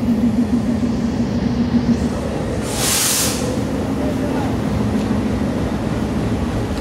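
A commuter train departs Dhaka Kamalapur railway station with a steady low rumble and a sustained humming tone, interrupted by a brief hissing burst partway through.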